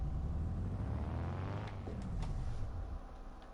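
A car engine in Car Mechanic Simulator 2021 revs hard toward 9,500 RPM, sounding rough and low on power, with a steady loud rumble and a pitch sweep midway through.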